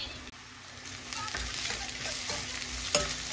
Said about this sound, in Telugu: అల్లం వెల్లుల్లి పేస్ట్ అంతా మంచి వాసన వచ్చేంత వరకు ఇలా ఫ్రై చేసుకోండి